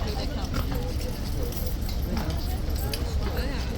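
Horse hooves clop steadily nearby while voices murmur underneath.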